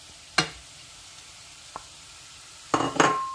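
Cooked plantain peel being mixed with grated coconut for Jaffna-style sambal, heard as a few separate scraping and rustling strokes, one near the start, a faint one midway, and a louder cluster at the end, over near silence.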